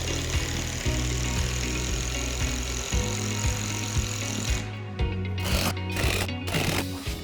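A power driver sinks screws to secure a Trex Transcend composite decking board on a resurfaced wood deck: repeated close motor bursts with a pulsing rhythm, then short choppy spurts before stopping.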